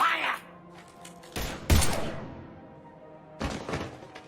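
Gunfire in Mass Effect 3 rings out in a few heavy, sharp bursts with booming thuds and short ringing decays, separated by quieter stretches, with voices faintly present.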